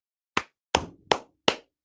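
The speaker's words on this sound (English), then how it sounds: "Team clap for Jeep getting a 4-star" Four sharp, evenly spaced claps ring out alone, a small team clapping in brief unison bursts with short decays between them.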